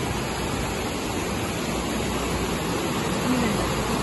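Spring water rising from among the rocks in the hills of a national park near Uruapan, Michoacán, flows in a steady, continuous rush with no breaks and fairly constant loudness throughout.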